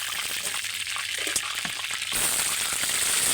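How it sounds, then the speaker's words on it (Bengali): Chicken roast pieces fry in hot oil, a steady hissing sizzle that swells and grows louder partway through. "লালচে করে ভাজতে হবে তাহলে রসটা খেতে ভালো লাগবে"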